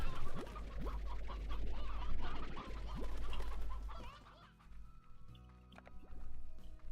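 Hens and a rooster cluck in the video game Slime Rancher, a busy run of short bird calls over a low background hum, thinning out after a few seconds with scattered game sounds.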